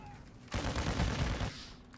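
A rapid burst of gunfire from a shooter video game blasts for about a second, dense and loud, then cuts off, leaving a quiet hum.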